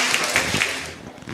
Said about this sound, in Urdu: پارٹیسپینٹ سی آپ نے، تالیاں ہو جائے۔